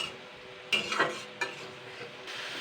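Gram flour and onion curry being sautéed in a pan over a raised gas flame, with a soft steady sizzle broken by a few sharp spatula scrapes, close and moderately quiet, no talking.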